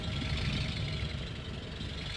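Tractor engine in Gold Rush The Game, running at a steady idle with a dense, knocking low rumble, loud and continuous with no speech over it.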